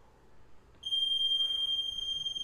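A workout interval timer beeps with a steady, piercing electronic tone that starts abruptly and holds continuously, loud and close in a quiet room during a dumbbell full-body session.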